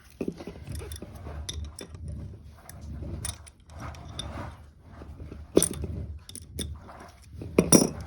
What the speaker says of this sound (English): in order to get this part separated from this part, you're going to have to take this bolt out